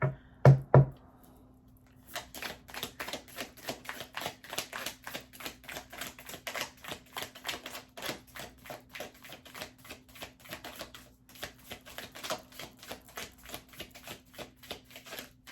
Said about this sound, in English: The more I shuffle, the more this card peeks out